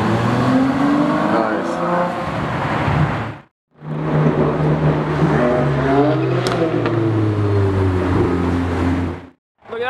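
A Mercedes SLR passing close by, its engine a loud, rising and falling roar as it accelerates past, with cheers and chatter from nearby people around it.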